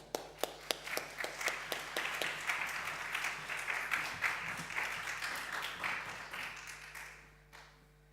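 A church congregation at a Sunday service welcomes a preacher with applause: a few separate claps at first, then a full, steady round of clapping that fades out near the end.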